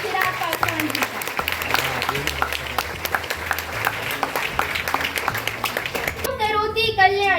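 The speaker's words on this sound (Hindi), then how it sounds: "कृपया जोरदार तालियों के साथ स्वागत कीजिए हमारे मुख्य अतिथि श्री चिराग पासवान जी का" A college audience at Hansraj College claps to welcome chief guest Chirag Paswan. Dense, steady applause runs throughout, mixed with loud background music, and a voice rises near the end.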